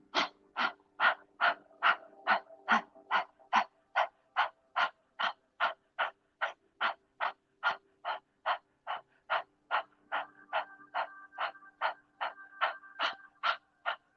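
Steady yoga breathing through a wide-open mouth with the tongue hanging out: about two dozen loud, forceful panting breaths in a fast, even rhythm, close up and with no talking.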